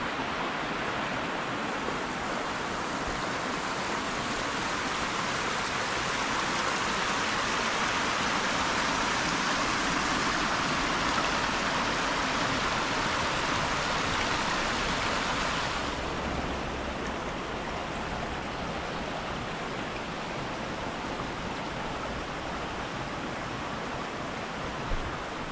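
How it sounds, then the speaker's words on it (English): A small cascading waterfall and creek at Lunch Creek in Glacier National Park rush in a steady, close, broadband wash that holds unchanged for the whole stretch, softening slightly in its upper hiss partway through. "a little cascading small waterfall and a creek"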